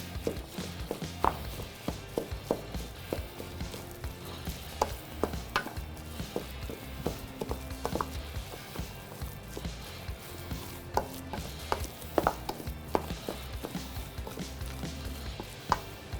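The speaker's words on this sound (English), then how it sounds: "we're just gonna take a second to mix it up with our nice heavy wood spoon" Heavy wooden spoon stirring hot vegetables and cooked grains in a pan, a steady run of close knocks and scrapes against the cookware with a soft sizzle underneath, no talking.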